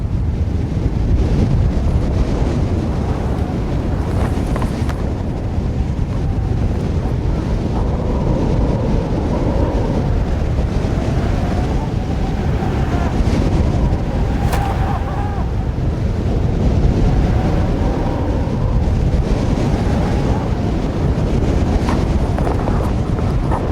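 Strong, steady wind roars and buffets on the exposed summit of Mount Washington, with broadband rushing noise and occasional gusts, no voices, loud and continuous.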